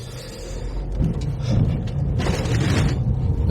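Shopping bags sliding and dropping in a car boot while driving around Folkestone, a few muffled thuds and rustling shifts over the steady low road and cabin rumble.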